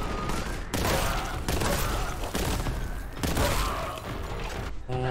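Sustained bursts of rapid gunfire from Warhammer 40,000: Boltgun, a loud dense barrage broken by brief pauses, with clanking mechanisms and a faint voice near the end.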